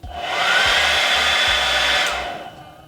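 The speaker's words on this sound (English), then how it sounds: "when I turn the blow dryer on, it dims the light" A hair dryer whirs steadily at close range, a loud continuous rushing hum that swells up and then tapers off, dimming the room light while running.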